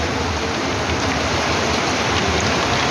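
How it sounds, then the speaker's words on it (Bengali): Steady rain pouring down in a town in Bangladesh, recorded from above a shop; a dense, even hiss of drops hitting surfaces with no pauses and no voices. "বৃষ্টি ভেজা দাগনভূঞা"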